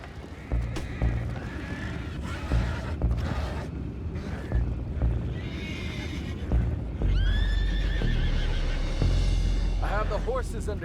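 In Red Dead Redemption 2, horses whinny and neigh repeatedly amid the thud and clatter of hooves, several shrill calls rising over a rumbling, creaking background while voices talk.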